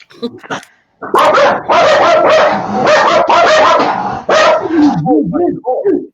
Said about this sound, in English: I didn't know you had dogs.